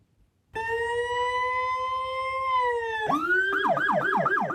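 An ambulance carrying food-poisoning victims sounds its siren. It starts with a long, steady wailing tone, then switches to a fast, rising-and-falling yelp. The siren is loud and clear and plays alone with no talking.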